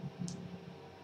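A single soft click of a computer mouse during PC controller software setup, very quiet and close, in an otherwise still room.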